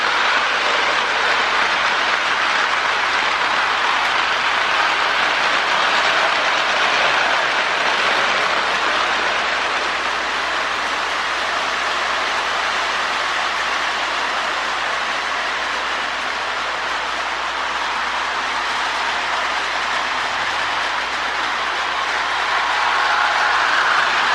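A steady, continuous whirring rumble of a 1959 Marx E7 AB model train pulling 19 cars along its track, unchanging and fairly loud throughout, with no talking.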